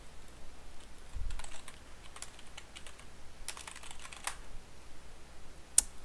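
Quick bursts of keystrokes on a computer keyboard, light clicking in short clusters with pauses between, fairly faint and close in a quiet room, with no talk.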